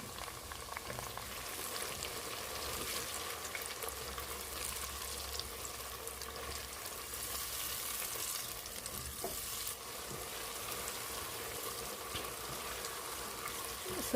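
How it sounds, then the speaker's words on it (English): Blended pepper and onion mixture cooking in hot oil for a stew, giving a quiet, continuous bubbling sizzle with occasional stirring, heard at a distance. "So at this time, I'm going to add in my blended pepper mixture."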